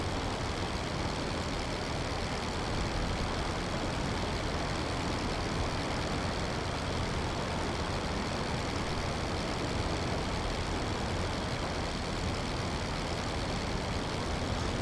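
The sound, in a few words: damaged biplane engine in video game Rise of Flight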